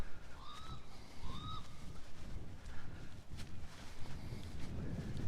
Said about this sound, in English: Are they crows sitting up there in the tree?